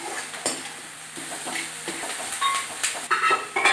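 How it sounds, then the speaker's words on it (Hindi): Onions for an onion pulao fry in a pan, a steady soft sizzle broken by the scrape and clink of a spoon stirring, close and fairly loud, with no talking. "ये देखिए हमारी प्याज हो गई है फ्राई।"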